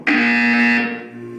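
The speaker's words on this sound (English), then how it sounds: "When you hear the buzzer, look down at the floor." A loud electronic buzzer in the Portal 2 video game sounds alone as one steady, harmonically rich drone that holds strongly before easing into a quieter tail.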